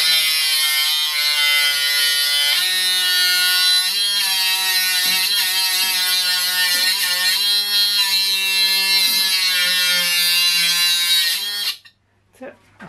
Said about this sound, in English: So first little cut in it. It's noisy because the noise is bouncing inside this drum.